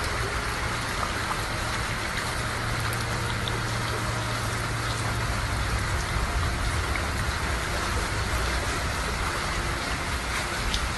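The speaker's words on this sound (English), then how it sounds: "Flash flooding that brought more than 20 inches of rain in different parts of the state." Heavy rain pours down in a flash flood, a dense, loud, steady roar with no letup, and a faint engine-like hum sits low underneath for the first half.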